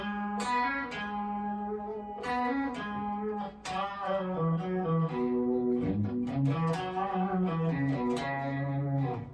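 An electric guitar plays a solo slowly through an effects pedal with its built-in reverb, notes ringing out with a washed, reverberant tone that is prominent but not saturated.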